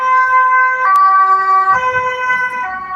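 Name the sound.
Dutch police siren passing by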